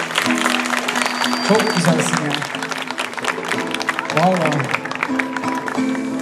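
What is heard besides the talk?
audience applause after guitar recital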